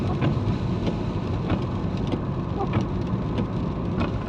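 Car tyres rolling through a puddle on a wet road, a steady, close rushing splash and hiss of water that carries on unbroken throughout.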